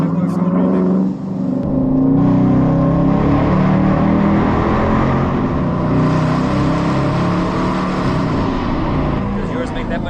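A Dodge Charger Hemi engine revs loudly nearby, a deep, sustained roar that dips briefly, then swells and holds at high volume.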